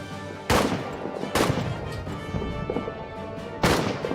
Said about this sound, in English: And I'm throwing a grenade at these guys.